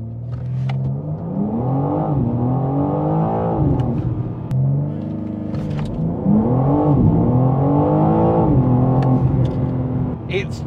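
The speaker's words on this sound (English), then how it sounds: "Now, what I like even more is a launch." A 2022 BMW M4 Competition xDrive launches hard, its loud engine note rising steadily with quick gear changes roughly every three to four seconds under sustained full acceleration.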